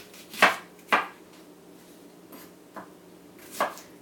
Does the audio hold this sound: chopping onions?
yes